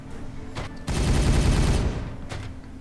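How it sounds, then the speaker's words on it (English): Gunfire from the strategy video game Regicide, a dense burst of rapid overlapping shots erupting after a short lead-in and fading over about a second, with a faint later pop. "Firing on target."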